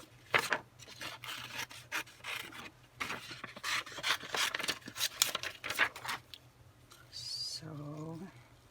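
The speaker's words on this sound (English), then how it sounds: "let's cut out this big butterfly" Scissors snip out a paper butterfly in a quiet room, a close series of short crisp cuts and rustles of paper, with a brief voice near the end.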